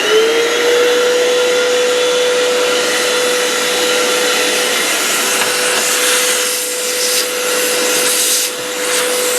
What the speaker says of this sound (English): now what we want to do is get inside here and vacuum it out